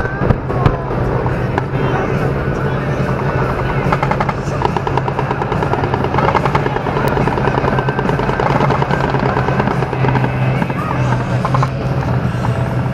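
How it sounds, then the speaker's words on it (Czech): Attack helicopters fly over a military exercise with continuous loud rotor thudding and engine roar, joined by scattered sharp pops and bangs throughout, steady and close. "Vidíte, že bitevní vrtulníky provádějí opakovanou steč"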